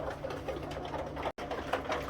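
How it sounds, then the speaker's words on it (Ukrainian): A ventilation fan runs in a chicken coop, giving a steady broadband whir that fills the space and cuts out for a moment midway. Faint hen sounds may sit beneath it. "Вентилятор працює вже 5 хвилин."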